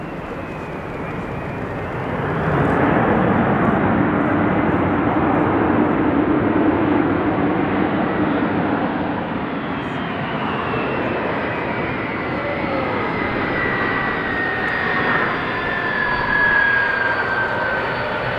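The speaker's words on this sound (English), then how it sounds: "This Airbus A300 braking as hard as possible" An Airbus A300 braking as hard as possible at an air show, smoke pouring from its brakes, gives a loud, steady jet roar that swells early and holds, with a thin whine rising over the rumble.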